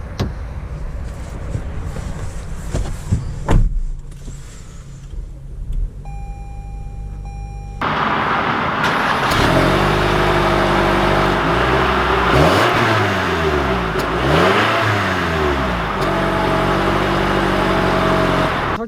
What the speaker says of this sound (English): let's take this RAV4 TRD Off-Road out to see how it drives.